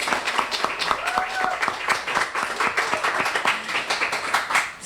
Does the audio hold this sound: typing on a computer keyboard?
no